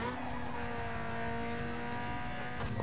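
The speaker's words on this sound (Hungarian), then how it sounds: "Rendesen hallani, amikor fokozatba teszi az autót, tiszta jó." A race car engine drones steadily in Need for Speed Underground 2, its tone holding loud and close before a brief break near the end as the gear shifts.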